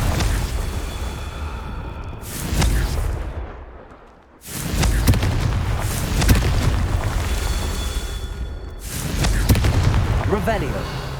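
Confringo blasting spells in the Hogwarts Legacy video game: three loud, booming explosions in a row, each with a sustained rumbling roar, separated by brief near-silent gaps, with game voices faintly mixed in.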